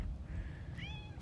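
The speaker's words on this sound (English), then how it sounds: "that lovely little sound you hear is our little barn cat" A small barn cat on a farm gives one brief, faint meow near the end, over a low rumbling outdoor background.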